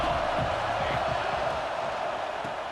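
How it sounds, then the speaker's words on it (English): Steady stadium crowd roar from a college football game in EA Sports College Football 26, a dense continuous wash of cheering held at an even level throughout, with faint voices mixed in. "This crowd ready to make its presence known."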